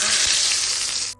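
Curry leaves, mustard seeds and urad dal crackle in hot oil while tempering a chutney, giving a steady, loud, close sizzle that stops abruptly at the end.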